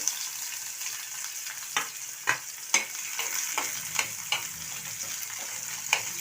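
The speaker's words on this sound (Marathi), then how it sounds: "तूप थोडे गरम झाल्यानंतर त्यामध्ये मी हा कापलेला कांदा टाकून घेते." Chopped onion frying in hot ghee for matar paneer, a bright continuous sizzle broken by sharp spoon taps and scrapes against the pan, close and without speech.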